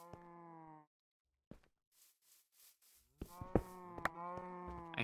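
Cows moo in the video game Minecraft, two long, loud, close lowing calls separated by a short stretch of faint footstep-like taps.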